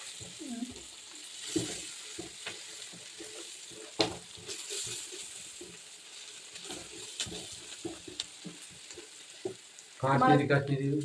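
Raw banana frying in a pan with spices stirred through it, a steady sizzle broken by scraping stir strokes, then a louder burst of crackling near the end.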